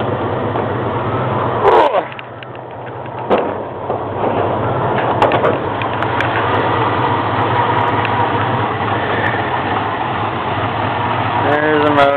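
A 1991 Jeep Grand Wagoneer engine runs rough under the open hood, a loud steady idle with uneven pulsing throughout, briefly interrupted by a clunk near the start.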